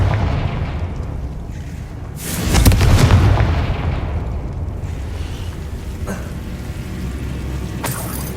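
Confringo fire spell explosion in Hogwarts Legacy, a loud booming blast about two seconds in that rumbles and fades over a couple of seconds, followed by quieter background rumble and a few faint clicks.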